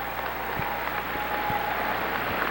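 An audience at the 2007 Merrie Monarch Festival claps continuously, a dense, steady wash of applause that sounds somewhat distant and never lets up.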